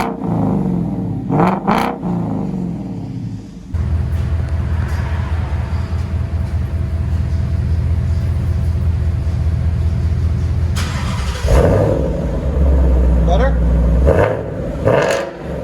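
Ford Mustang 5.0L GT V8 fitted with a Krona exhaust, loud and close, idling then revving hard in deep bursts with a sustained high-rpm hold before dropping back.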